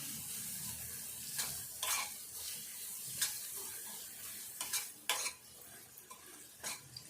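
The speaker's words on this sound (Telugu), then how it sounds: "ఈ కరివేపాకు కూడా ఈ నూనెలో వేగాలి." Curry leaves and prawns sizzle and fry in hot oil, a steady close crackle broken by several sharp clinks and scrapes of a spoon stirring against the pan.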